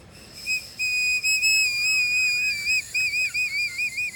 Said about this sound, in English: just a couple toots and the beach is lined with dolphins